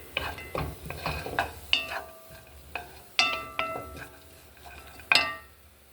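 Chopped onions in a hot dry pan, stirred before any oil goes in: scattered metallic clinks and scrapes of a utensil against the pan, spaced irregularly, with a faint quiet background between them.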